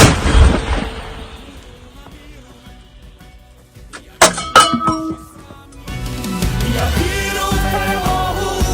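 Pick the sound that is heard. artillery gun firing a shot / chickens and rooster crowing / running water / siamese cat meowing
artillery gun firing a shot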